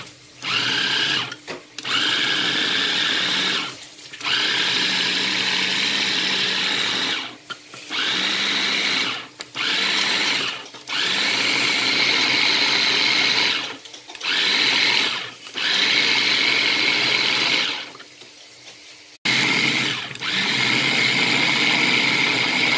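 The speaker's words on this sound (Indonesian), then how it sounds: "Singkong yang kita parut tadi kita blender dulu ya karena kurang halus." A kitchen blender grinds grated cassava in loud, steady whirring bursts that stop and start several times, with short pauses between runs.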